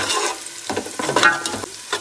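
Chopped onions with turmeric frying in a pan for a Telangana-style mutton head curry, stirred in several scraping strokes over a soft, continuous sizzle, close and without talk.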